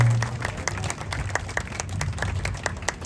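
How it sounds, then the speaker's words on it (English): Crowd applause at the US Grand Prix for a guest during a safety car event: scattered, distinct claps with a low rumble beneath, moderately distant and steady for a few seconds. "Big round of applause, ladies and gentlemen."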